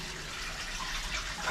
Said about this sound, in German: jetzt schauen wir mal, ob das Wasser abfließt